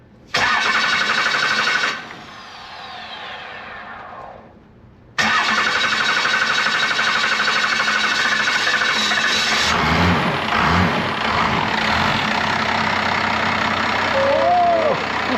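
A worn-out first-generation Cummins diesel engine cranks and catches, stumbles briefly, then fires and settles into a steady, loud idle close by, with no talk over it.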